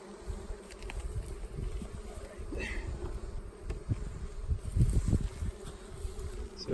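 Many honey bees buzzing steadily around a hive, a close, continuous drone with occasional louder passes near the listener.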